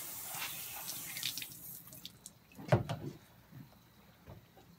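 Water rinsing blood from a freshly processed rabbit carcass and its cavity, an irregular splashing and trickling from a tap with a sharper knock midway, close and fairly quiet.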